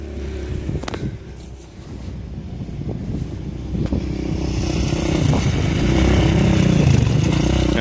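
A 2007 Yamaha Raptor 700R ATV engine runs close by, first near a steady idle and then building in loudness as the throttle opens toward the end, with some wind buffeting and clatter mixed in.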